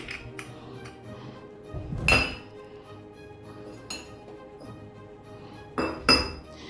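Metal idiyappam stand plates clink and clatter as they are handled in a kitchen, a few bright ringing knocks and scrapes with short pauses between, close and fairly loud.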